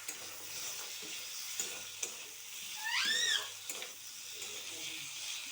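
Cauliflower and bori stir-fried in hot oil for a tel koi fish curry, a soft continuous sizzle broken by occasional utensil taps, with a brief high whistling tone in the middle.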